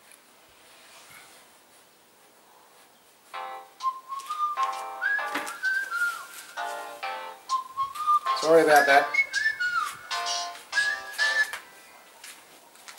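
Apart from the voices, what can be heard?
alarm timer sounding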